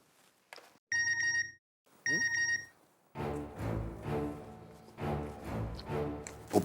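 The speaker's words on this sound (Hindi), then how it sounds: "पोपटलाल का मैसेज।" A phone's notification tone chimes twice in short bursts, fairly loud and clear, followed by ongoing background sound from a Hindi sitcom scene.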